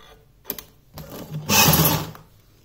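A sewing machine stitches half-inch tissue ribbon onto a small doll dress, with a short buzzing run of the needle after a few clicks and handling noises, close and fairly loud.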